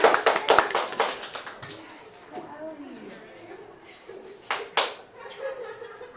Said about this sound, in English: applaud for Ellie.